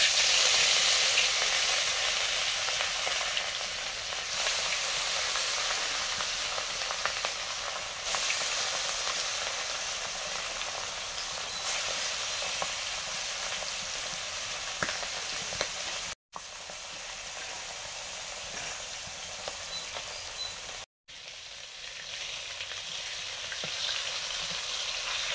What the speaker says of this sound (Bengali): কাতলা মাছ ভাজছি